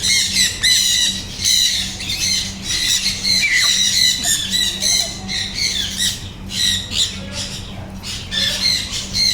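Loud, continuous squawking from a bird close by, harsh repeated calls running without a break.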